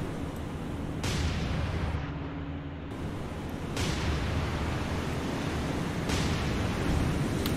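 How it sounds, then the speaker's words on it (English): Heavy booming blasts from bombs striking a transport ship in the naval war game War on the Sea, rolling low rumbles over a constant roar of sea and engine noise, several impacts spread across the stretch. "So a couple of bombs landed on that transport."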